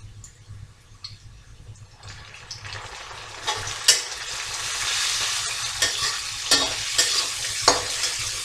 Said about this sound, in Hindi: फिर इसमें लहसुन और हरी मिर्च का पेस्ट डालकर 2 मिनट तक भून लेंगे।